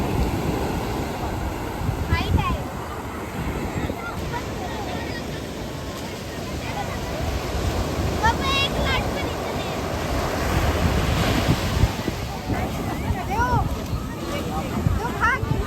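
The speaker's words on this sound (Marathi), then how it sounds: "आणि लाटा बघा मित्रांनो, काय लाटा येतात त्या जोरदार एकदम." Strong sea waves crash in at high tide at Beyt Dwarka, Gujarat, a steady roar of surf and wind noise that swells and eases throughout, with a voice faintly present.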